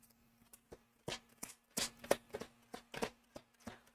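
Cards riffled and shuffled by hand from a large deck during a love tarot reading, heard as a run of soft, crisp flutters and taps of moderate loudness, with a faint steady hum underneath.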